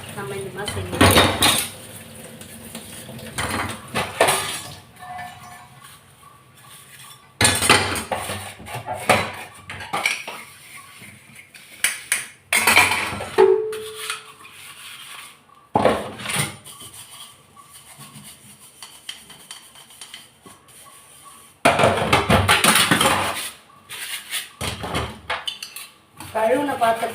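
Vessels, plates and utensils being washed in a small home kitchen sink, with loud metallic clatters, clinks and scrubbing in irregular bursts separated by quieter rubbing and pauses, close by, with some voice in places.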